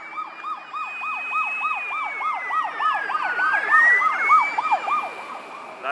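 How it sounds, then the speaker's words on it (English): A fire truck siren in Australia passes by, wailing and yelping in fast repeating sweeps over a rising and falling tone, loud and steady with road noise underneath and no talk. "There you go, that's a fire truck."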